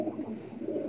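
A pigeon gives soft, low cooing pulses in a brief burst, close by and fairly faint, with no talking.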